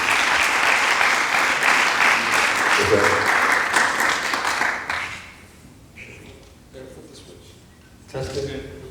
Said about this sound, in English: But let's all give Christian a round of applause.